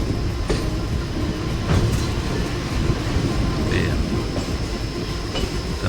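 A Chennai local train rolls past close by, a dense continuous rumble with rail clatter and a few faint squeals, steady and loud throughout.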